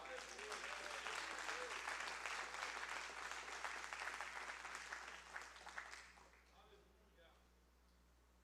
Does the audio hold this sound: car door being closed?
no